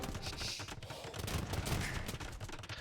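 Hand cannon gunfire crackles in a dense, continuous fusillade from a medieval real-time strategy game battle, many overlapping shots at a steady loudness with no break.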